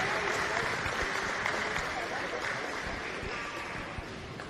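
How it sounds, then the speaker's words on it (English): Applause for a futsal team at a league final awards ceremony, a broad, steady roar of clapping from a large room, fairly faint and even throughout. "One more time, round of applause for our match team."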